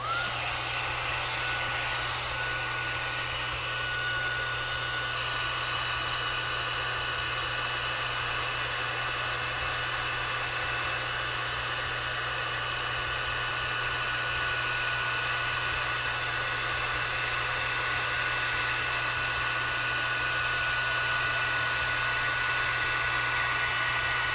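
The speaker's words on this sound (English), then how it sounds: "now I'm going to bring my heat tool in and I'm going to let it heat up just for a few seconds" A crafting heat tool heating up, giving a steady, loud fan-like whir with a constant low hum that runs unbroken throughout, close and alone with no voices.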